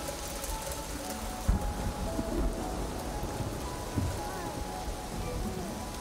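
Rain pours in the climbing game Jusant with low rumbles of thunder, a steady hiss of drops broken by two soft thudding swells.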